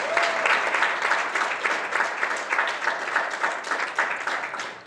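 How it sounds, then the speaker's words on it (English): A crowd at a Martin Luther King Day ceremony in Ottawa applauds from a podium audience, giving a steady, dense wash of clapping that holds strong for nearly five seconds with no speech over it. "I think that we should applaud them for their efforts"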